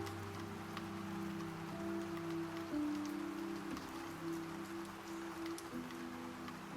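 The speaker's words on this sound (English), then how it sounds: "The rain becomes a faraway hush." Gentle rain patters on a surface in a soft, continuous hiss, with a low sustained drone humming beneath it the whole time.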